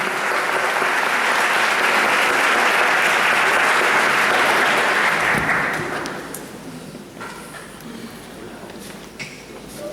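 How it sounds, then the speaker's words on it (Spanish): Audience applause for a speaker at a biomagnetism medicine symposium, a loud, dense clapping crowd that holds steady for about six seconds, then drops sharply to scattered claps and room noise. "Un aplauso para Cristóbal"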